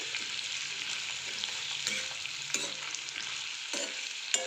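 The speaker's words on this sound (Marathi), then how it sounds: "आणि आपलं गाजर लगेच आपण परतायला टाकणार आहोत. छान परतून घ्यायचं आहे त्याला." Sliced carrots sauté in a pan for a carrot fry, a steady loud sizzle running throughout with scraping stirs of a spoon at irregular intervals, close and without any talking.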